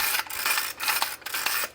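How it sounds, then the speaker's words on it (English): A side-crank pepper mill grinding peppercorns up close, with a gritty rasping crunch in four or five quick rhythmic crank strokes. "Now what I will do is I will add pepper. Now I have this cool pepper mill."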